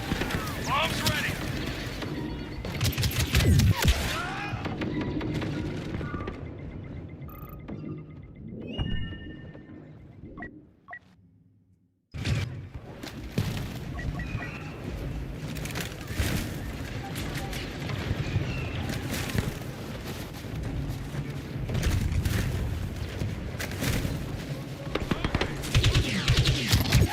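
Bombs and gunfire burst repeatedly through a Star Wars Battlefront II battle, dense and loud, with a near-silent gap partway through before the chaotic fighting resumes.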